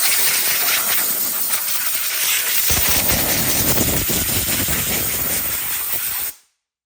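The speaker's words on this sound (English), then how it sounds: "get me a blowgun, air, compressed air, blow off all the dirt" Compressed air from a blowgun blasting dirt out from under the hood of a 2018 Cadillac XT5 with a 3.6 engine, a loud, continuous close hiss that cuts off abruptly at the end.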